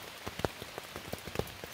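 Rain patters faintly and steadily on a tent, with scattered individual drops tapping close by.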